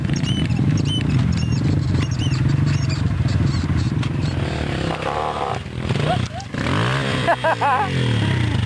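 A dirt motorcycle engine revs and drones loudly on a trail ride in Ibitita, Bahia, with shifting pitch sweeps as the throttle changes, while people talk nearby.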